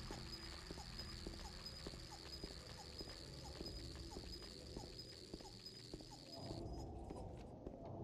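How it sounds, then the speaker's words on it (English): Faint, repeated dog yips and whimpers in the video game Silent Hill 2 recur over a steady background hum and ambient noise, with a brief shift in texture near the end. "That was a dog, I want to say."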